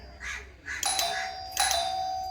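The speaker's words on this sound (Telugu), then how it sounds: "కాలింగ్ బెల్ అయితే వర్క్ చేస్తుంది" A newly repaired electric calling bell in a house rings in two bright bursts, its steady electronic tone repeating close by over low background noise.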